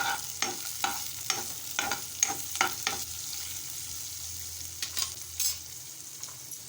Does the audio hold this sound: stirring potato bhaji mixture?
yes